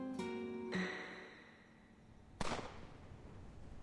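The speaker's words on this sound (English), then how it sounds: "What was that gunshot noise?" A gunshot in the video game Reverse: Cosmic Overture rings out as one sharp, loud crack with a brief noisy tail, after a quiet stretch of game music tones.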